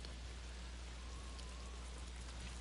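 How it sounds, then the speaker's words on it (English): Rain falls in the video game Ghost of Tsushima: a steady, even hiss of downpour with a low hum beneath, continuous and without speech. "it's raining"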